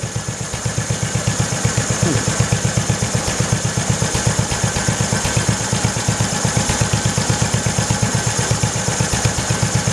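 A small Kohler engine in a 1968 tractor chugs steadily at a fast, even idle, its rapid pulsing beat continuous and close, with rattling clatter riding on top.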